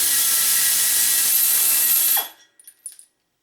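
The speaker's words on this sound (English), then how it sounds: "I can break that fastener free and then run it out the rest of the way with just simply pulling it on the trigger" An SP Air 360° rotational head air ratchet whirs loudly and steadily as it runs out a fastener, then cuts off abruptly, followed by a few faint clicks and silence.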